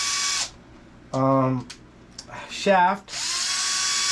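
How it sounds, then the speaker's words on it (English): A power driver backs screws out of the bottom skid plate of an RC car. It whirs loudly in two steady bursts at the start and end, with someone talking between them. "we're gonna remove all these screws in the bottom"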